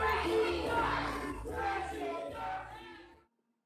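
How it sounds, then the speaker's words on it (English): Wrestling crowd at a Midwest Impact Pro show roaring and applauding for Tracy Smothers, a loud, dense wash of cheers and clapping that swells, dips briefly, then cuts off abruptly near the end. "Applause for Tracy Smothers"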